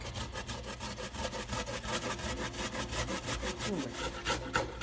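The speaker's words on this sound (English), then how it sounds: "now you're grating the turmeric" Fresh turmeric root is rubbed over a kitchen grater in quick, even back-and-forth rasping strokes, close and moderately loud, with no talking.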